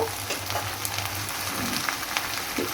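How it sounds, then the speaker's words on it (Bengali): Soft sizzling and frying of prawn curry with ginger-garlic paste being stirred and sautéed in a pan, a steady crackle broken by occasional scrapes of the spoon. "ভালো করে একটু মিশিয়ে কষিয়ে নিব"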